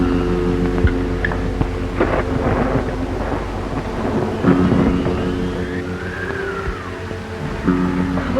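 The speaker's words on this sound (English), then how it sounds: "I suppose it's a storm." Thunder rumbles through a thunderstorm with steady rain in an audio drama scene, loud rolling crashes layered over a continuous wash of rainfall.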